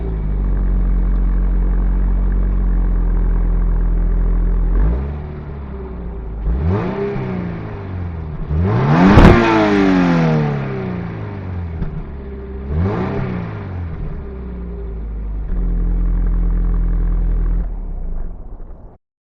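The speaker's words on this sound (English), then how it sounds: "let's go ahead and fire it up and see what this flat 4 sounds like" A 2022 Subaru BRZ flat-four engine idles with a steady low rumble, then revs sharply several times, its exhaust rising and falling before settling back to idle.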